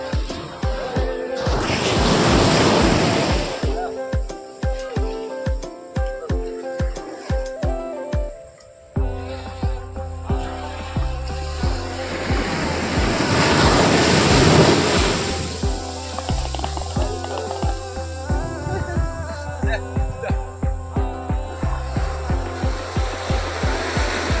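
Sea waves crash against the shore in loud, repeated surges of broadband rushing water, swelling and falling over about twenty-four seconds with no voices.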